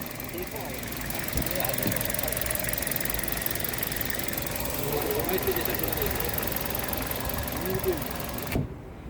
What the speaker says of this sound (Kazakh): Көрдүңүздөр, моторудан жакшы иштейт экен.